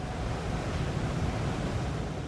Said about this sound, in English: These fans hit your car with intense air pressure.